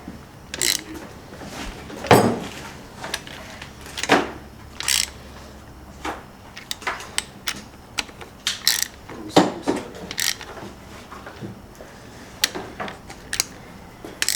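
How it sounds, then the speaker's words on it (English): Ratcheting clicks of a torque wrench tightening engine bolts during a classic car engine rebuild, in short irregular bursts and single ticks, close and fairly loud, with no talk. "get the torque wrench ready"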